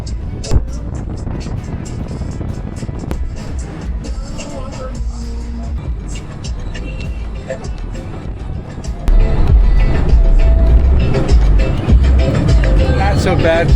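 Riding on a bus with a $1.50 fare: a steady low engine rumble and road noise fill the cabin and grow louder partway through, with people talking over it.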